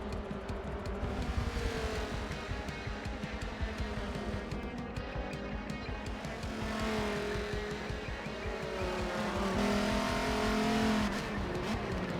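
Race cars roar around Circuit of the Americas in Forza Motorsport 7, a continuous layered engine drone with rising and falling revs and occasional tire squeal, with no voices.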